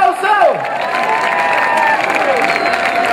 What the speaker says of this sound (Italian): Tu senti un applauso?